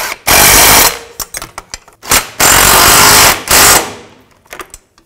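Impact or power tool driving the nuts onto the rear catalytic converter bolts of a 2010-16 Buick LaCrosse, in several loud bursts of a second or so, separated by short gaps and scattered clicks.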